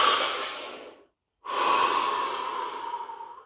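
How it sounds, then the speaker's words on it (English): A single deep breath, a long audible inhale of about a second, then a brief pause and a sustained exhale, close and fairly loud, with no talking. "Take a deep breath."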